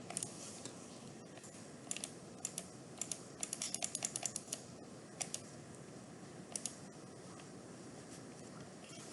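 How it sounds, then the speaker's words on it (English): A computer mouse gives light, sharp clicks during drawing work at a computer: sparse single clicks and quick clusters over a quiet room hush, faint and close, with no one talking. "I'm going to left click, right click"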